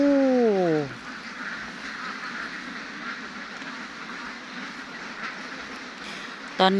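Laying ducks kept in a rubber plantation let out a loud burst of quacking at the start, then fade into a soft outdoor hum, with one more brief quack at the very end.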